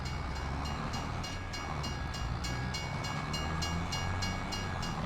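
A train passes on the outside track in the farming game Farming Simulator 25, a steady low rumble with rhythmic clicking bursts repeating throughout, fairly quiet and with no talk over it.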